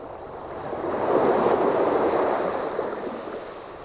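Waves wash onto a fine sand beach in a schist cove at Saint-Cas on France's Emerald Coast, one soft surge swelling and fading over a few seconds, with no voices.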